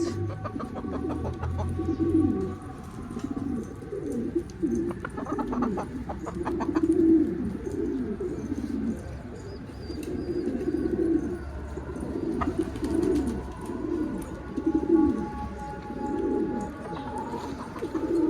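Pigeons coo steadily in low, throaty bursts, several birds overlapping close by with faint clucks and rustling in the background.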